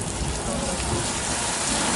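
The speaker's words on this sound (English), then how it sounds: "We create that rain effect using high power sprinklers." Heavy artificial rain from high-power sprinklers on a Hollywood studio backlot set, a dense, steady hiss of falling water close by that fills the whole moment without letup.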